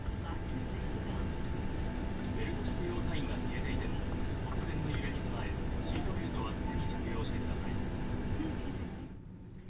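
Inside the single-class cabin of an Air Do Boeing 767 with 288 seats, the jet taxis with a constant, dense engine and air-conditioning drone, while a recorded safety announcement voice plays over the steady hum throughout.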